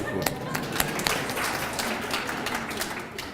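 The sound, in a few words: audience applause for panel speakers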